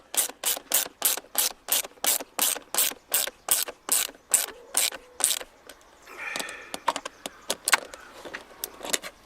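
Ratchet wrench clicking rapidly in a steady run while tightening fasteners on a 1993 Ford Mustang center console cover, close and crisp, then a few looser, irregular clicks and rattles near the end.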